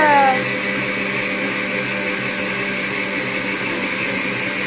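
A bread machine kneads dough with a loud, steady motorized whir and hum that holds constant from start to finish.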